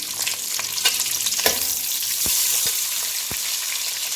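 Oil sizzles steadily in a pan while making Rayalaseema fish curry, a continuous frying hiss broken by a few stirring clinks and scrapes, close and fairly loud with no talking.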